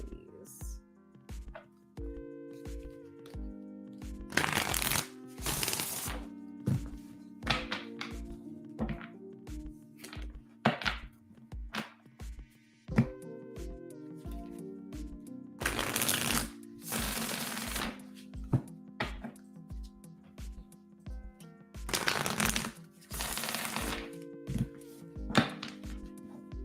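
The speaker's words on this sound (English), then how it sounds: "Just want to give a good shuffle because I haven't used this deck" Tarot card deck being shuffled, with repeated crisp riffling bursts and soft taps at a steady pace, close and fairly quiet, mixed with low background tones and a few louder handling clatters.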